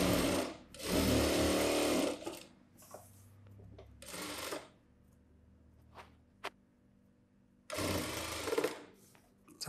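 A sewing machine stitching a boat-neck blouse starts and stops in loud close bursts, with clattering and clicks between runs where stones lie near the needle.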